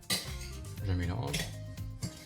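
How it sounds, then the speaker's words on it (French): A spoon stirs sugar and almonds in a bowl for a Santiago almond cake, clinking and scraping against the sides in quick irregular knocks, close and fairly soft, with a voice speaking over it. "mélange le sucre et les amandes"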